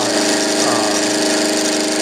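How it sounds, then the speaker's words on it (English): A mini lathe set up for milling with a half-inch end mill runs loud and steady, a constant dense whine and grind with a faint rhythmic cutting chatter and no voices. "Well, we have a half-inch end mill here. Milling."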